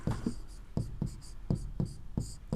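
Hand writing during an economics lesson, a close, rhythmic run of short scratching strokes repeating about every quarter second, steady and without talk.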